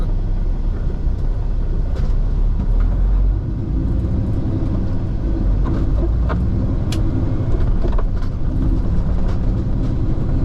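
A train hauling sugar cane in southern Louisiana, heard as a steady loud low rumble with rhythmic wheel clacks and occasional metallic squeals, close and continuous.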